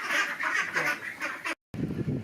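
Ducks quack continuously inside a barn, a dense overlapping chorus of loud nasal calls close by, cut by a brief moment of silence before the flock noise resumes.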